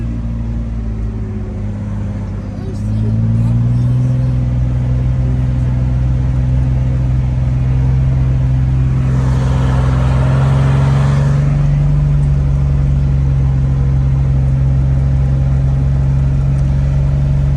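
A Jeep with a manual transmission runs steadily, its engine note rising as it pulls away and then holding a constant droning hum, close and loud throughout, with a brief airy swell midway.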